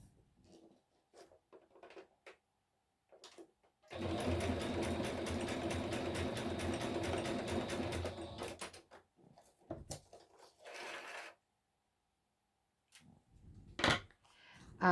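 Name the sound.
sewing machine stitching a corner pocket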